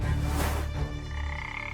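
A frog gives a single deep croak in the game TerraGreen, loud and near over a low background hum, then fades out.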